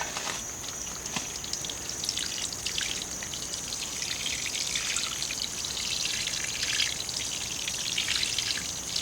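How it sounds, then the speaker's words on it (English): Water pouring onto soil around San Marzano tomato cuttings in a garden, a steady close trickle and splash that runs continuously without pause. "Just gonna water it in."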